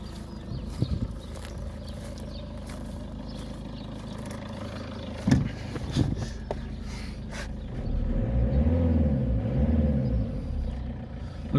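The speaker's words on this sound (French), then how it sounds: "Malgré que le moteur tourne, elle tourne même bien au ralenti" A Peugeot 207 1.6 HDi diesel, restarted after long disuse, idles close by with a low, even rumble, interrupted by a few knocks and handling noises, then a steadier, heavier idle toward the end.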